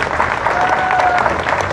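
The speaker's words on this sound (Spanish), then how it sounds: "un aplauso primero para todos ustedes" An audience at a racing drivers' press conference at a fuel station claps in a short, dense burst, with faint voices mixed into the applause.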